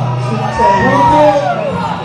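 A crowd cheers and acclaims a couple at a wedding celebration, sustained loud shouting and whoops rising in the middle, with music and voices mixed in.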